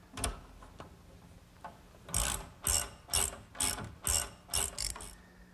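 A ratchet tightens a nut on a bed bolt connection of a wooden pencil-post bed, with a couple of faint early clicks followed by about eight loud, evenly spaced ratcheting strokes up close.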